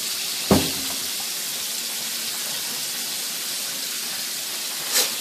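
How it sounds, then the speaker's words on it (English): Pork chops frying in a skillet, a steady bright sizzle and hiss that holds at an even level throughout, with a brief thud early on and a soft spit near the end. "We got other pork chops cooking."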